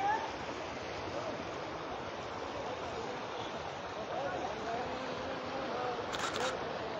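Floodwater runs waist-deep across the Sylhet–Salutikar road into the villages, a steady broadband rush of flowing water that holds constant throughout, fairly close and moderately loud.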